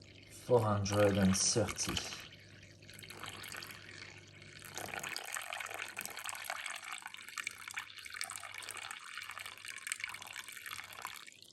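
Cold water pours for fresh pasta dough in a brief splashing rush, followed by a long stretch of running water and soft liquid sounds, with a voice speaking over it.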